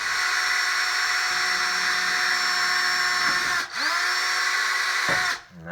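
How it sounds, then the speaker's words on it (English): A power drill with a dull bit bores a hole through fiberglass boat panel for a speaker, a steady loud high-pitched whine running continuously, dipping briefly as the bit catches and then spinning down at the end. "And that's a dull drill bit."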